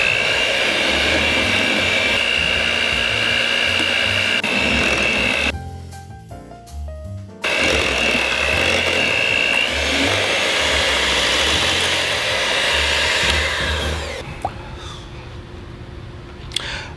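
An electric mixer beating sifted flour into vanilla pound cake batter, a loud steady motor whir that drops out briefly, resumes, then eases down near the end.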